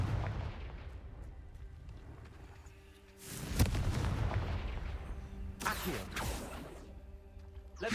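Confringo fire-blast spell in Hogwarts Legacy: a booming explosion bursts out with a whooshing blast, followed by further crackling impacts over a rumbling battle backdrop.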